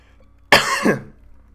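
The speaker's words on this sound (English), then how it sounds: "I thought my cough was gone, but it's not." A single sharp cough bursts out close to the mic, loud and raspy, then trails off into quiet room noise.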